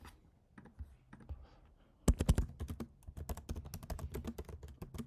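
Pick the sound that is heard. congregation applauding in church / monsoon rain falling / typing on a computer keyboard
typing on a computer keyboard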